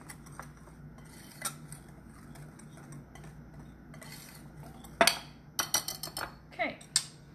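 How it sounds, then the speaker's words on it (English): Whisk stirring baking soda and dry ingredients in a bowl, quick clinking and scraping strokes against the bowl that grow busier toward the end, close and under a quiet background. "I'm just going to take my whisk and whisk all that together so it gets mixed together well"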